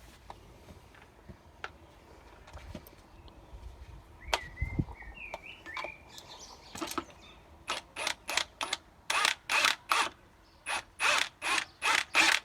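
An impact gun works on the front shock absorber fitting of an Astra H. Scattered quiet clicks and knocks lead into a run of loud, evenly spaced short bursts of rattling hammering close by.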